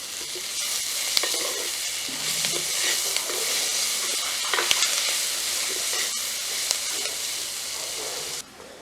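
Chopped tomatoes hit a hot pan already holding green chillies and curry leaves in a Jaffna village kitchen, setting off a loud, steady sizzle and fry with scattered crackles that runs continuously before cutting off abruptly near the end.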